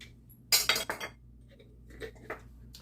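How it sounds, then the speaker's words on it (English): Milk is shaken in a cheese container, giving a quick cluster of clattering, rattling knocks followed by a few softer taps, close by in a kitchen. "I usually take a little milk and shake that up"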